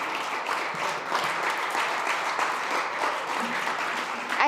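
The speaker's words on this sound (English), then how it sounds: "Please welcome him to the stage with a huge round of applause." An audience at a food industry event breaks into steady, sustained applause, dense clapping that holds at an even level throughout as a speaker is welcomed to the stage.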